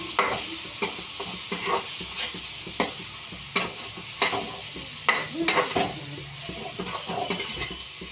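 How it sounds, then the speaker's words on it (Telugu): Egg and prawn mixture frying in a pan, with a steady sizzle broken by repeated scraping and stirring strokes of a spatula, close and moderately loud, with no talking. "ఇలా కలిపేసుకుని ఫ్రై చేసేసుకుంటామే"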